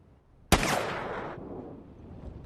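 A single loud gunshot in a tense scene from the film No Country for Old Men cracks sharply, then trails off into a fading reverberant tail, with no voices.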